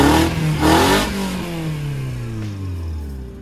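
A Toyota 3S-GE Beams engine swapped into a Tamiya owner-type jeep, revved hard up close and then settling as the revs fall away over a few seconds, loud and alone.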